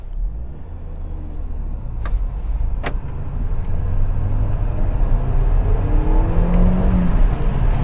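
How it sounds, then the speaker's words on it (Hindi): A 2020 Hyundai Grand i10 Nios Asta with a 1.2 petrol engine fires up and drives off. A steady low engine rumble swells slightly louder as the car gets moving, with no talking. "तो अभी अपन जो तुरंत गाड़ी का इंजन करेंगे स्टार्ट।"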